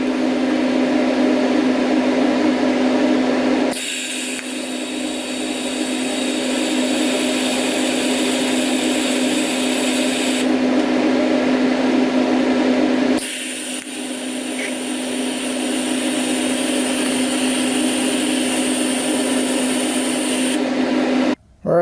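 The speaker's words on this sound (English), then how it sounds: "Now I'll do just a little tack on the back side of this bolt that's in there." DC tack weld on the back side of a bolt, a continuous close buzzing crackle in three long bursts separated by brief quiet gaps, loud and steady with no talking.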